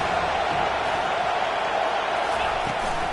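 Stadium crowd at a football game roaring loudly and steadily on a third-down defensive stand, a dense sustained wall of cheering throughout.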